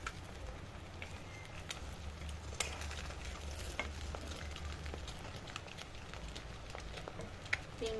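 Boiled eggs frying in hot oil for a Bengali egg curry, several pieces at once, giving a soft, continuous sizzle and crackle at low volume with occasional sharper pops and spatters.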